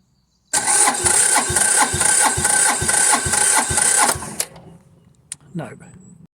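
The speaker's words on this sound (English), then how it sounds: "we'll attempt to start it again, see if she fires up" Right after a fuel air lock is cleared, an engine cranks in a rapid, pulsing rhythm for about four seconds, loud and close, then cuts off, leaving a few faint clicks and rattles.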